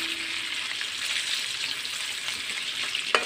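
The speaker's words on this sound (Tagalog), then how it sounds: "halo-halo lang ng konti." Food frying in a pan and being stirred, a steady close hiss of sizzling with faint scraping of the stirring, ending in a sharper clack near the close.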